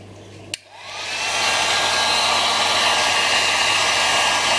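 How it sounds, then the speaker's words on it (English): A hot air dryer on a low setting blows steadily on freshly cleaned wheels from a Japanese 40-day wall clock movement. It starts with a click and then keeps up a constant whooshing hiss close by. "Now we'll use our hot air dryer to dry the wheels"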